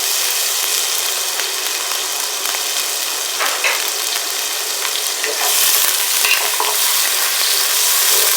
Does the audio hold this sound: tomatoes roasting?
yes